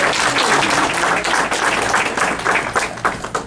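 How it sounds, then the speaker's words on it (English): Steady, loud audience applause fills a pin-collectors' talk at a Disneyana convention in Dayton, dense clapping sustained throughout before it starts to thin at the end. "Clap for Katie, everybody."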